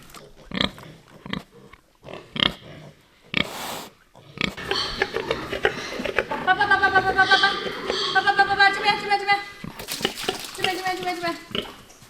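A sow and her piglets grunt and snuffle while being fed on a rural farm, with a run of rhythmic oinks near the trough, splashing and clattering feed sounds, and a voice talking now and then.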